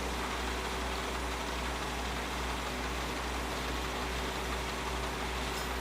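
A truck idles in Farming Simulator 2013, a steady low engine drone with a constant hum that holds unchanged for several seconds, with no talking over it.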